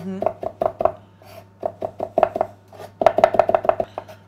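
Fresh herbs being finely chopped with a knife on a board for a quinoa, bulgur and roasted prawn dish, a steady run of crisp, close taps in quick bursts with a brief pause in the middle, under a low background hum.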